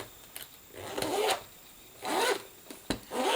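A planner's zipper is drawn in several short strokes, each a raspy scraping zip, with quiet pauses between and faint handling noise.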